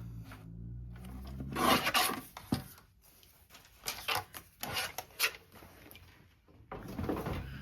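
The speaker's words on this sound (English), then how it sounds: "So I'm just gonna trim this down to about 5 1/4." Paper is trimmed down to pocket size for a handmade idea book, heard as a series of scraping, rasping strokes and short rubbing bursts at close range, separated by brief pauses.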